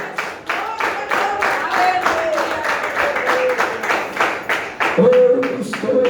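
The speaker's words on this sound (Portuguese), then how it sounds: "Bate as palmas para Deus," Church congregation clapping hands in a steady, rhythmic beat, loud and close, with singing voices carrying over the claps.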